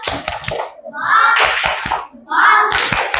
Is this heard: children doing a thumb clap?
yes